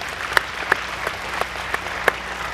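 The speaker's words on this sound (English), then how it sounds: "Let's have another round of applause" Spectators at a youth female recurve archery final clap in a modest, thin round of applause, with a few sharper, louder claps standing out against the softer patter.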